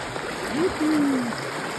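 Clear, cold water flowing in a stream at a favourite nature spot, a soft steady trickle and babble nearby with a faint, brief tonal sound in the middle.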